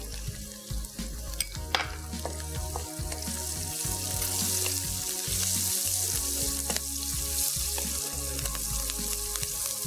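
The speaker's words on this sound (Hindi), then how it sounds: "इनको भी करेंगे फ्राई हल्का सा, ताकि मिर्चों की भी खुशबू है वो भी आ जाए" Chillies frying lightly in a pan, a steady close sizzle with soft crackles and occasional stirring scrapes throughout, no talking.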